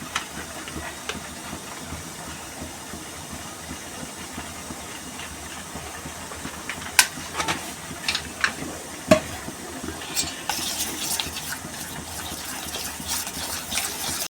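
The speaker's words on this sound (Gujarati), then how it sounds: "આ રીતે બરાબર હલાવવાનું આ ખીરું થોડું ઢીલું લાગે છે" A spoon stirs a loose semolina and bottle gourd dhokla batter in a bowl, with soft scraping and occasional clinks over a faint steady hiss from water heating nearby.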